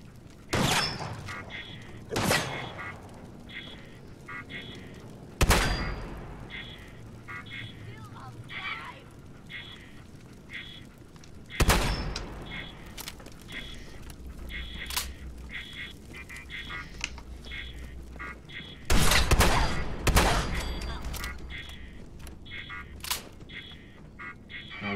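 Shotgun blasts in Fallout 4: several loud, sharp booms spaced irregularly across the stretch, some in quick pairs, amid mechanical clicks and game ambience, with a voice talking in between.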